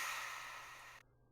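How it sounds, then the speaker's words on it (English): Airy, breath-like atmospheric pad in an electronic FL Studio track, a steady hiss of bright noise that slowly fades and then cuts off abruptly, leaving only a faint low hum. "Sounds like a person breathing."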